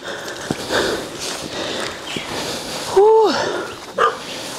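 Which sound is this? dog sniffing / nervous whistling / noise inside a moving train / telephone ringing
dog sniffing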